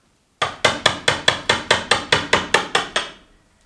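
A hammer strikes a chisel to chip construction adhesive off wood, a dozen quick, sharp metallic taps in an even rhythm, close and loud, then fading out.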